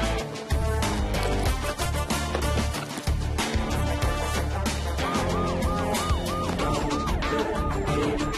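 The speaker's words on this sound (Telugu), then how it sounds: "పోలీసులో ఉన్నారు, సైరన్ కొడుతున్నారు" A police car siren wails in repeating rising and falling sweeps over a busy, loud background of music or street din, continuous throughout with no voices.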